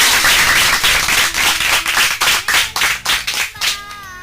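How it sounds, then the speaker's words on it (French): Children applaud in a radio studio, their loud, close hand claps falling into a steady rhythmic beat before breaking off. "Acclamez fort pour Jésus-Christ"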